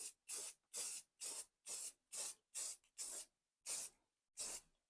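Aerosol spray paint applied as a second coat to a patched, porous Worthington Ingeco engine head, heard as about nine or ten evenly spaced short hissing bursts, close and fairly loud, with silence between each pass.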